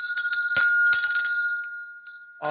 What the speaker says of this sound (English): If I can reach my little bell.